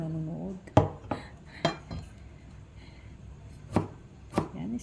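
Ginger sliced with a knife on a cutting board, about five sharp, separate chops at uneven intervals, close and fairly quiet, with faint kitchen clinks between them.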